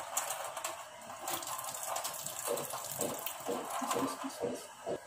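Carrots and vegetables are washed under running water in a kitchen, a soft continuous splash with sloshing and handling noises, fairly faint and close.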